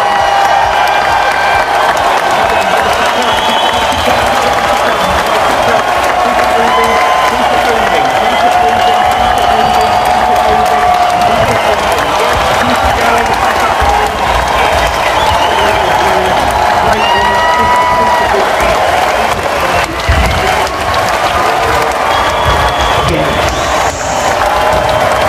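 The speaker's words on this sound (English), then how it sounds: "give as many of them as we can a massive Newton round of applause" School assembly crowd giving sustained loud applause with cheering, dense steady clapping filling the hall from start to finish.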